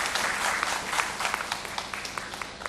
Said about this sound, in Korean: 박수 한번 크게 쳐주시기 바랍니다.